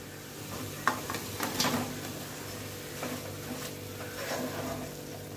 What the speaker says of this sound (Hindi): अभी डाल देंगे आलू को मैंने डिवाइड कर दिया ताकि वो जल्दी से फ्राई हो जाए